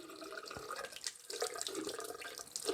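Tap water runs into a sink to rinse a safety razor, a steady close splashing stream with small drips and clinks, with no one speaking.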